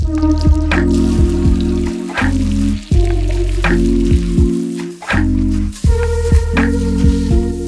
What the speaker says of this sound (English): Melt butter in a saucepan and add the breadcrumbs. Stir frequently until golden brown.